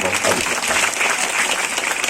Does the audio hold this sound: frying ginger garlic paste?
no